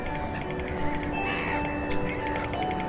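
Seabirds such as pelicans, cormorants, blue-footed boobies and gulls call at a rocky coastal point, harsh repeated caws and squawks over a steady background of wind and surf.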